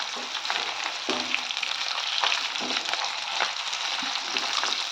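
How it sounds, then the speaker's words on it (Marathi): Chopped potatoes and cauliflower sauté in a hot pan with a steady, dense sizzle, broken by occasional scrapes and stirring knocks, close and constant, with no one speaking. "भाज्या त्या थोड्याशा परतून घ्यायच्या आहे"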